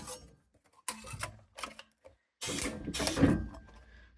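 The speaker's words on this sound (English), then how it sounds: "punch those holes" A segment hole puncher biting through material in a few sharp, separate clunks, the last ones heavier and more drawn out, close by with short gaps of quiet between strokes.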